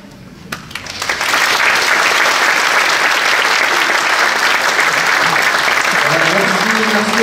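An audience at a wind band concert in a theatre breaks into loud, sustained applause that rises within the first second and keeps going steadily, with a voice briefly heard beneath it.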